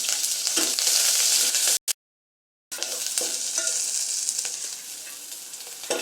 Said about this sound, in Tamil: இப்போ பூண்டு கருவேப்பிலை எல்லாமே நம்ம உள்ளே சேர்த்துடலாம்